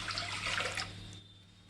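Water is poured into a pot for syrup for galactoboureko, a steady splashing rush for most of a second that then thins and stops.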